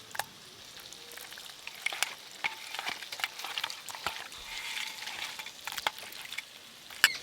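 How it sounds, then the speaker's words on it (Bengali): Spices frying in a pan for a village-style prawn bhuna, a soft steady sizzle with scattered crackles and stirring scrapes throughout, fairly quiet and without speech. "এদিকে অল্প আছে মশলা কষানো হতে হতে"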